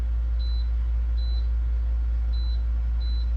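A food dehydrator loaded with five trays of garlic mash gives four short, high electronic beeps in a loose rhythm as it is switched on and set, over a constant low motor hum.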